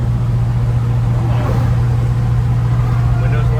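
A 1972 Chevrolet C10 4x4 pickup truck being driven, its engine giving a steady, loud low drone with constant road and cabin noise throughout.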